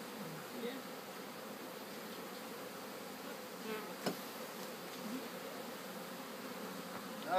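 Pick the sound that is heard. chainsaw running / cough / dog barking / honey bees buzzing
honey bees buzzing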